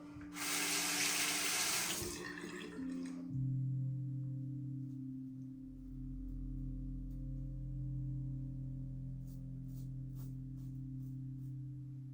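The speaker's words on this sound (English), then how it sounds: "Let's wash up." Tap water runs into a sink while a razor is rinsed, a loud close splashing gush for about three seconds that settles into a steady, humming flow.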